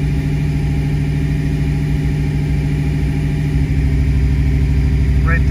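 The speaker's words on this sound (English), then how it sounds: "The engine is going to slightly go up and down in pitch." A Ford Mustang V8 idles during a cylinder balance test, with each injector cut in turn, giving a loud, close, steady rumble whose tone shifts slightly as a voice talks in the background.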